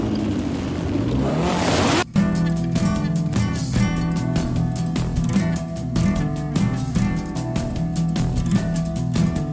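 A race car drifts with its tires squealing in a loud, continuous screech over a revving engine, cutting abruptly at one point before rapid pulsing engine and tire noise resumes.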